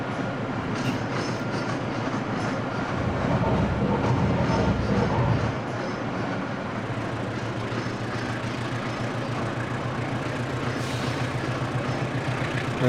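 Train in Trainz Simulator, an Indonesian Daop 8 service running from Bangil toward Sidotopo: a continuous rumbling roll with rhythmic wheel clickety-clack over rail joints, loudest in the first half, no talking.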